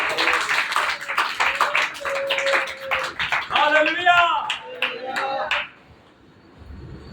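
Church congregation clapping hands while praying during a Hindi sermon, a steady dense clapping mixed with loud voices and a shouted exclamation, which fades out near the end.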